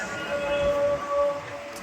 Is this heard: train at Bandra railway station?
yes